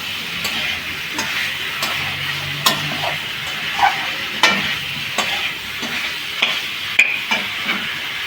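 Potatoes and spices sizzle steadily in hot oil in a pan, a gentle frying hiss punctuated by regular scrapes and taps of a spoon stirring up close.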